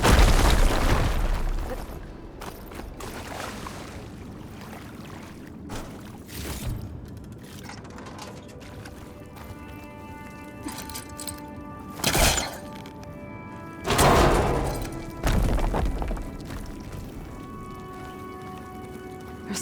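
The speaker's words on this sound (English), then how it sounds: "Should be able to blow up that fire gleam." A fire gleam crystal gets blown up in Horizon Forbidden West, a loud burst of shattering crystal, then scattered crackles and several more booming blasts spaced over a rumbling ambient game background.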